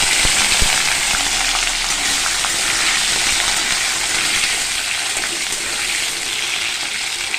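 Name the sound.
potatoes frying in hot oil in a wok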